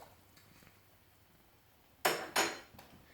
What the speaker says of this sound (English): Let me stir my pasta